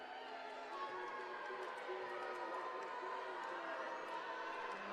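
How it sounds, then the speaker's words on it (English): Basketball crowd noise in a gym during a free throw, a steady broad roar of fans rooting for the shooter, continuous and moderately loud throughout. "The crowd really rooting for him."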